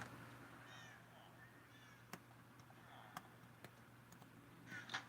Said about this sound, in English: Where is this cat?